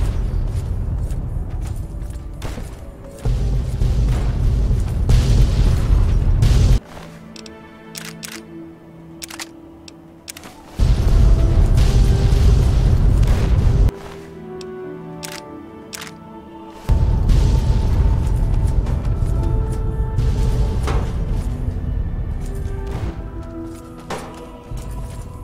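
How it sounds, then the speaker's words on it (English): Heavy explosion blasts in Fallout: Tale of Two Wastelands come in bursts of dense booming rumble, broken by quieter stretches with ringing tonal game sounds before the roar returns. "Explosions."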